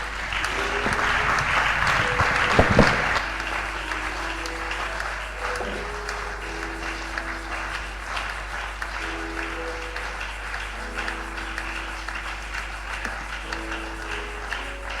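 A church congregation at a prayer and doctrine gathering applauds Jesus with sustained clapping throughout, dense and even, peaking early and then holding steady.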